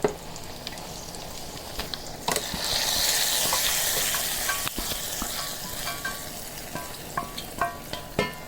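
Hot tadka spice oil is poured over white rice and sizzles loudly, a hissing rush swelling and then fading, broken by clinks and stirring taps.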